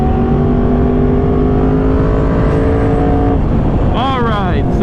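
A sports car engine revs up loudly from inside the cabin, a steady rising drone with strong harmonics, then shifting pitch as it accelerates hard toward the end.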